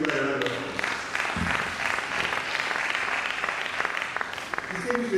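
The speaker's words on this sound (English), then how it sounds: "Let's give her a round of applause." Sustained audience applause at a college lecture for an agricultural science college, steady dense clapping from a large hall with voices mixed in.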